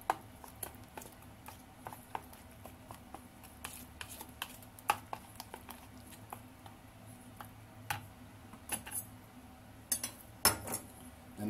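Utensil tapping and scraping against a bowl while okonomiyaki batter is mixed, a steady run of soft clinks and ticks, close and fairly quiet.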